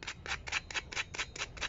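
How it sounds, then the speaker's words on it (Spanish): Motorcycle brake pads being sanded by hand in rapid back-and-forth strokes, about eight even scrapes close up with no talking. "no pasa nada, le volvemos a dar otra lijada"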